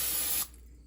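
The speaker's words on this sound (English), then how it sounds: "So we have this handy spray, which is awesome." Cooking spray hissing onto a baking pan for brownies, one loud, close, steady burst lasting under half a second that cuts off abruptly into quiet.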